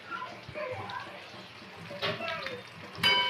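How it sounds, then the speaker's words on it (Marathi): Ridge gourds being rinsed in water for a Khandeshi vegetable dish, with steady splashing and trickling that swells into a brighter burst near the end, and soft voices faintly underneath. "गिलकं धुवून घेतलं"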